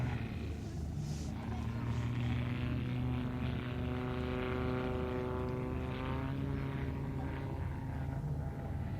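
A Yak propeller aircraft flying a display at RAF Mildenhall gives a steady droning engine hum with a slowly shifting pitch, heard under continuous talk.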